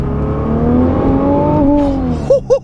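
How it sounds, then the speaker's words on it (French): A Nissan GT-R's heavy engine note holds steady and then climbs as it drops into second gear, loud and close, ending with a couple of sharp blips. "Rétrogradage, deuxième."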